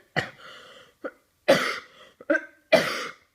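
Several sharp, raspy coughs come in short bursts with brief gaps between them, close to the listener and fairly loud, with no speech.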